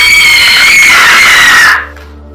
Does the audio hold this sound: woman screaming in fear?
yes